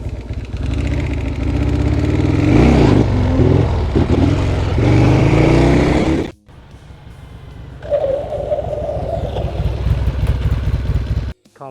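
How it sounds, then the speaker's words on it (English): A Harley-Davidson 883R Sportster, built for stunts, revs hard and loud up close as it pulls a wheelie. The engine roars for several seconds, cuts off abruptly, then idles and revs again more quietly. "Watch, I'll show you guys how easy it is to pop a wheelie."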